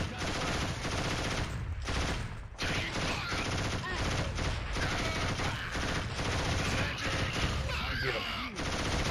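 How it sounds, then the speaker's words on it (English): Machine gun fire in Killzone 1 pours out as a continuous, loud fusillade of rapid shots that barely lets up, with only a brief gap partway through. "the MG spread is funny. It shoots so many bullets"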